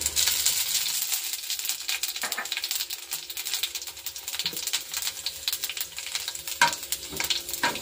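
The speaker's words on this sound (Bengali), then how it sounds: "তেল দিয়ে দিয়েছি, দিয়ে দেবো 5 ফোড়ন" Five-spice seeds crackle and spit in hot oil in a pan before bitter gourd goes in, a dense, busy frying hiss with scattered sharp pops close by.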